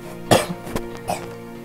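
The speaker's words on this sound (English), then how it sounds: "Sorry for all that coughing." A short burst of two or three harsh coughs, close and fairly loud, followed by a softer throaty cough.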